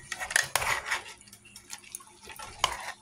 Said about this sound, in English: We're going to give all of this a stir around